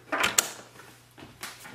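Ink cartridge pressed down into its slot in an Epson WorkForce Pro WF-3825 printer, giving a few short plastic clicks and creaks close up, with a sharp snap early and a quieter click near the end.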